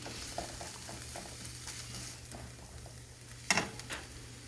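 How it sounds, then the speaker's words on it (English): Butter sautés in a pan for omelets, a faint, steady sizzle and patter with a small clink of a utensil partway through, quiet and close. "we're just going to let that saute just a little bit"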